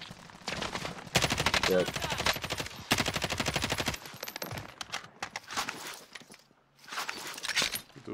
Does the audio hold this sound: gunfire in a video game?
yes